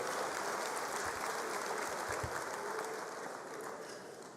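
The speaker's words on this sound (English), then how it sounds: "let's give them a big hand of applause, all of them" An audience at a matric results announcement applauds steadily for several seconds, a dense wash of clapping that slowly fades toward the end.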